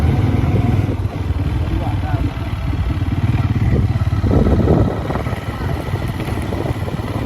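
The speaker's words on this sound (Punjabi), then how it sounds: "ਅਸੀਂ ਵੀ ਮੋਟਰਸਾਈਕਲ ਤੇ ਬਹਿ ਗਏ ਹਾਂ" A motorcycle carries riders along at a steady engine drone, close and loud throughout, with a rattling, clattering texture and a brief swell of noise near the middle.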